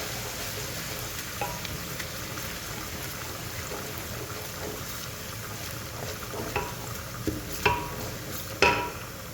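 Chopped ginger, garlic and green chillies fry in a pan with a steady close sizzle, while the pieces are stirred and scraped and a few light clinks sound near the end. No one speaks.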